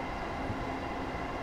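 A train rumbles past in Train Simulator 2015 on the New York to New Haven line, a steady loud rolling roar through the whole brief stretch.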